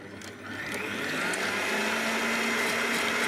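A stand mixer at full power beats vergeoise sugar and an egg, whirring up to a loud, steady motor drone that holds close and unbroken with no talking.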